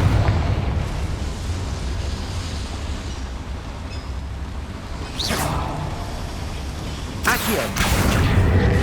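A Confringo blasting spell in Hogwarts Legacy, with a rumbling roar under game sounds and sharp whooshing bursts about two thirds through and near the end, loud and close.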